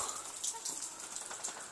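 Steady rain falling outdoors beneath a farm overhang where animals shelter, a dense continuous patter of drops at moderate level with no voices.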